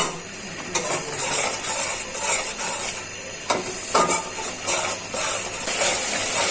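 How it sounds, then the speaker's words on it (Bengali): Spice paste with salt being stir-fried in a pan for a country chicken curry with jackfruit seeds, loud sizzling with repeated scraping and clinking of a spatula against the pan, close and continuous, no talk. "এখন ভালো করে মশলাটা কষিয়ে নিই।"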